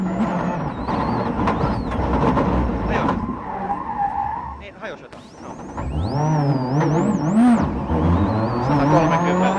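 A Peugeot 206 WRC rally car at a Rallye Deutschland stage, its engine revving and tyres skidding loudly nearby, pitch rising and falling through gear changes, with commentary talking over much of it.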